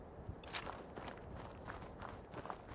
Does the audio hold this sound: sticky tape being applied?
no